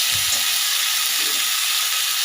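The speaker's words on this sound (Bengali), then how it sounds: "এবার সব কিছু ভাজা হয়ে গেছে" Constant bright sizzle of food frying in hot oil, steady and close, with no voices.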